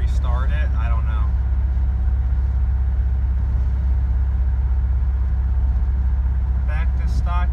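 A faulty Audi engine idles rough with a check engine light on, a loud steady low rumble with an uneven pulse that carries through the whole stretch, with brief speech at the start and end.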